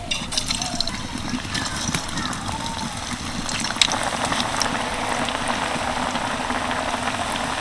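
Semolina puli pitha frying in hot white oil in a kadai over a raised flame, a steady dense crackle and bubbling that runs throughout, close and moderately loud with no talk.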